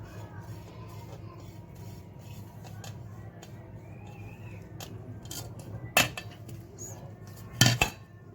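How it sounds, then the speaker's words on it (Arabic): Flour and ghee being stirred by hand in a bowl for Egyptian village-style qurs, a steady soft scraping and rubbing with two sharper clinks near the end, close and fairly quiet, with no talking. "ونقلبهم لحد ما الدقيق والسمنة يبتدوا يتجانسوا مع بعض"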